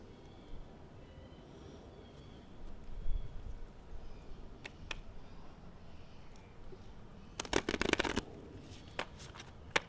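A deck of oracle cards is shuffled close by, with soft scattered riffles and taps building to a dense burst of card noise near the end, then a few last flicks.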